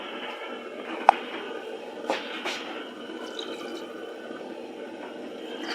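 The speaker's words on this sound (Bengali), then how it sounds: "এখন একটু পানি দিয়ে দেব।" Water is poured into a pan of banana flower curry with a splashing, trickling gush and a couple of sharp splashes. Moderately close, with no talk.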